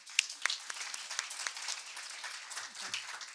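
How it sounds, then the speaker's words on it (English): A conference audience gives a round of applause, a dense, steady patter of many hands clapping at moderate distance, with a few sharper claps near the start and faint voices murmuring underneath. "So just a round of applause also for the audience"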